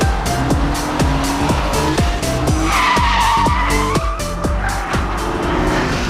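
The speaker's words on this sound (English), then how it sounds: "where the Honda just powers in and then, whoa, a bit of oversteer" A Honda sports car oversteers through a very tight hairpin on the 1.5-mile Pembrey circuit, its engine loud and close, revving up and dropping in quick repeated steps over a continuous squeal of skidding tyres.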